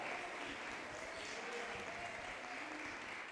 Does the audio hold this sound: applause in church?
yes